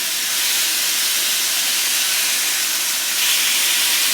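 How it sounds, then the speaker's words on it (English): A rib eye steak sizzles on a Ninja Foodi XL grill, a loud, steady, close hiss that holds unbroken throughout with no talking. "Love to hear that sizzle."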